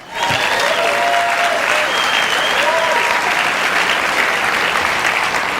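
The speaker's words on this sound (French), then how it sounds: "Applaudissez-vous car vous êtes ici." Loud, sustained applause from a large seminar audience, starting abruptly and holding as a dense crowd roar of clapping, with faint voices and whistles mixed in.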